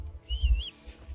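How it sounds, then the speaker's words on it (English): A single short whistle calls a horse in Kingdom Come: Deliverance, a clear rising-and-falling tone lasting under a second over a low rumbling background. "But what is the goddamn button to whistle? Button to call horse"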